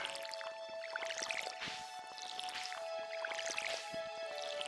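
Crops being watered in the farming video game Stardew Valley on PC, a steady run of soft, wet dripping and squishing splashes repeating throughout, fairly faint and close, with no talking over them.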